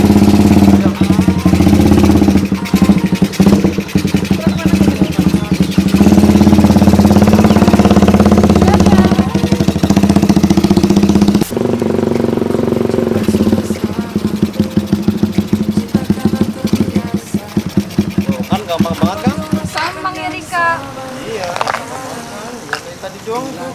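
Modified Suzuki Satria motorcycle engine running steadily up close, a loud low drone with choppy pulsing, dropping in level partway through and turning rougher near the end as voices talk over it.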